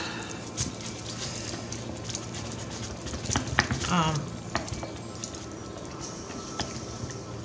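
Resin mixed with inks, paste and mica powder is stirred and scraped backwards and forwards in a cup, giving a steady close-up scraping and swishing texture with a few louder knocks partway through.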